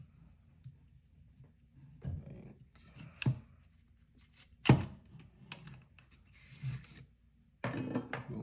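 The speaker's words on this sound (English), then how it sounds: "So you remove the spring," The recoil spring is pulled from a Micro Draco 7.62x39 pistol with its dust cover off, giving close metallic clicks, a scraping rasp and one louder thunk amid quiet handling, with no speech.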